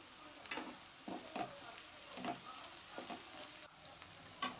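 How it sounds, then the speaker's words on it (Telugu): Gizzards frying in a pan with turmeric being stirred in make a quiet, continuous sizzle broken by irregular spatula scrapes and knocks against the pan. "ఇలా వేగిన తర్వాత పావు లేదా అర టేబుల్ స్పూన్ పసుపుని వేసుకుని ఒకసారి బాగా కలుపుకోవాలి"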